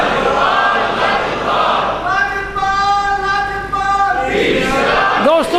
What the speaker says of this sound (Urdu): دوستو یہ نعرے صرف اس مسجد میں لگتے ہیں